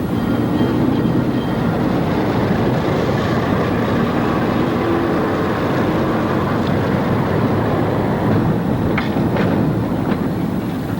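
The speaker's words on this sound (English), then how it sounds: "Here she pulls her train past the old Lehigh Valley Depot in Owego" A D&H freight train, symbol ML2, rolls past the old Lehigh Valley depot in Owego in light rain, a steady loud rumble of rail cars with faint clickety-clack throughout.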